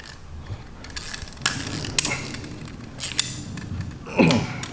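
A hand ratchet clicks in short bursts while tightening a nut on a throttle pedal rod of an 18x, heard close against a steady background hiss in a workshop.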